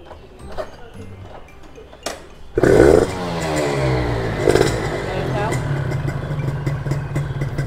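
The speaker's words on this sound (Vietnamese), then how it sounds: "giờ nổ máy được không" Modified Honda Nova Dash motorcycle engine revving hard and settling into a steady, rough idle, close and loud, with people talking beneath it.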